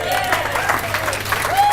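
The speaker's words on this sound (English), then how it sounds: "Give me a round of applause for that." An audience applauds, a dense wash of clapping throughout with a voice speaking over it.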